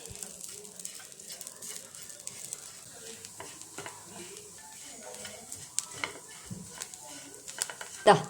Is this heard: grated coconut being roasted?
yes